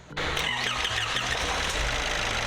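A campervan's warm engine, just repaired, fires up after a brief crank and settles straight into a loud, steady idle close by.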